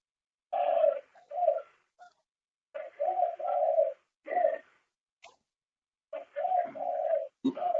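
Pigeon-like cooing from a bird in the background of an online meeting: soft, low, mid-distance coos in short phrases, several bursts separated by brief pauses, with no talk over them.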